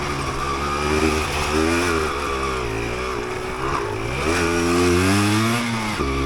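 A 1988 Yamaha DT200 two-stroke dirt bike ridden off road, its engine buzzing loud and close with rising and falling revs throughout as the throttle is worked.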